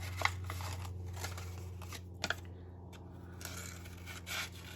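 Scissors snipping paper for a seahorse craft, a run of soft scrapes and crisp little cuts at close range, quiet and steady with a couple of sharper snips midway.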